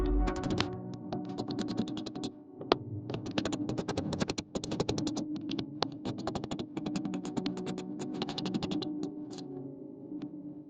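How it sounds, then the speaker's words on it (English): A socket on a long-reach 10mm extension works bolts loose on a Ford Kuga, giving a fast, continuous run of light ratcheting clicks with brief pauses. "we're just going to use a socket, the long reach 10mm extension"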